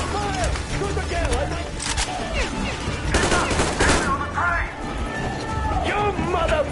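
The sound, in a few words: gunfire, from the video game Metro Exodus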